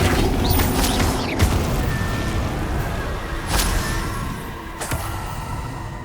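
Confringo and Flipendo spells cast in Hogwarts Legacy on PS5, with several sharp magical impacts and booms over a dense, rumbling mechanical bed, loud and close, with no talk.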